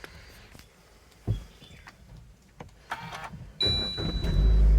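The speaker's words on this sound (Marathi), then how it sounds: "तर त्याला आता मी वायपर मारतो आणि गाडी स्टार्ट करतो कोल्ड स्टार्ट करतो" Windshield wipers sweep across a fog-covered car windshield with a whirring motor, then the engine cold-starts, its loud low rumble building at the end with no talk.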